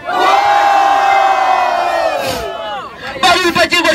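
A crowd at a freestyle rap battle, Batalha do Tank in Rio de Janeiro, roars and shouts loudly in a sustained wall of cheering that dips briefly, then bursts back with scattered whoops.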